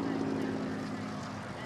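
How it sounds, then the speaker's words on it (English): Spitfire propeller aircraft passing overhead at a Battle of Britain commemoration flypast, with over 30 planes in the air, heard as a steady, loud, broad engine drone with a sustained hum throughout, and voices faintly present underneath. "Over 30 planes in the air, 9 separate wings."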